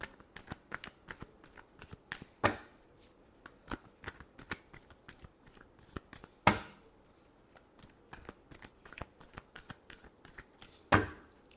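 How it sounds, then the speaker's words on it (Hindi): Tarot cards shuffled by hand in quick crisp riffles and taps, close and fairly quiet, with a few sharper louder snaps standing out at intervals and no voice over them. "Last shuffle."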